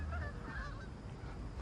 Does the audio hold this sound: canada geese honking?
yes